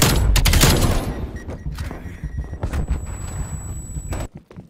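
Rapid bursts of gunfire from the video game Call of Duty Cold War, loud and close, with dense shots packed into the opening second, then scattered thumps and impacts until an abrupt cutoff near the end.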